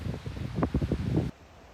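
Wind gusts at Burlington Beach on the lakeshore buffet the microphone in close, rumbling bursts for about a second before dropping to a steady low hiss.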